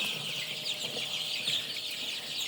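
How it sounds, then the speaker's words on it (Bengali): A Sonali hen clucks nearby on a poultry farm, a continuous run of close, fairly loud calls against a farmyard background, with no talk. "তো আপনারা শুনতে পারছেন একটি মুরগি ডাকতেছে কি সুন্দর"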